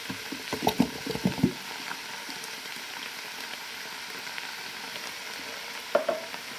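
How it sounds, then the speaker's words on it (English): Canned plum tomatoes being broken up and stirred with a spoon in a pot of bolognese sauce, a low simmering sizzle with a cluster of knocking spoon strokes early and another brief clatter near the end. "Just break them up with your spoon and stir them in."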